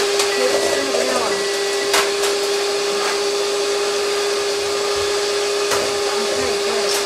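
Electric mixer whipping a bowl with sugar and vanilla, a steady close whirring drone with a sustained hum that runs unbroken throughout, under a few faint clicks.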